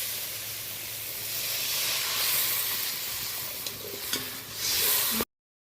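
Hot water is poured into a simmering Bhola fish curry, a loud hiss and sizzling spray that swells, eases, then surges again before cutting off abruptly. There are a few clinks and no voices.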